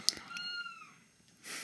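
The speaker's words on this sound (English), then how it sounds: "My cat's here." House cat meowing indoors, a couple of faint rising-and-falling meows near the start, followed by a soft noisy rustle at the end.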